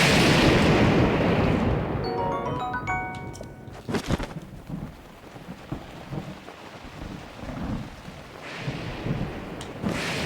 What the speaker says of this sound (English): Game, you're not supposed to rain right now.